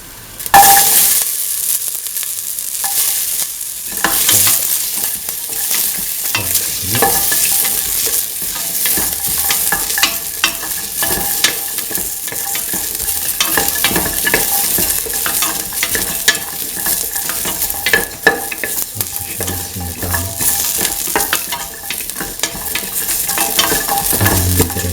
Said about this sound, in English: now put in the garlic and the shallots